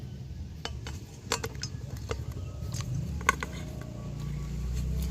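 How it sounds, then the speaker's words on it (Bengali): Raw mangoes are rubbed by hand in a bowl of water, producing soft sloshing and light clinks and taps against the bowl at an uneven pace, close and fairly quiet. "এইভাবে হাত দিয়ে কিন্তু আমের গাগুলো একটু ঘষে নেবো, এতে করে ময়লা আঠা লেগে থাকলে উঠে যাবে।"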